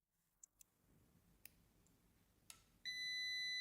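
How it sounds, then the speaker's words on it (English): A Kaiweets KM601 budget multimeter on its continuity test gives a few faint probe clicks, then a steady, shrill beep that starts near the end and holds, heard alone and close. "That would be the continuity test."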